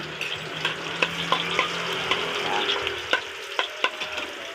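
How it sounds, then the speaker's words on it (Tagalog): Garlic fries in a pan for chicken caldereta, a continuous hissing sizzle with occasional clicks of a utensil stirring against the pan, close and steady without speech. "Palutuin muna natin bawang natin."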